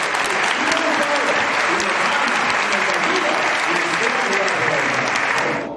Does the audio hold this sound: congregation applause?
yes